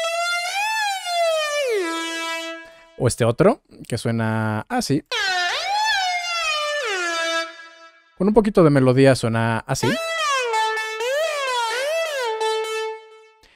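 A Miami Beach style synth lead made in FL Studio, with bright, buzzy tones that slide and bend in pitch across short melodic phrases, loud and upfront, alternating with someone speaking Spanish between the passages.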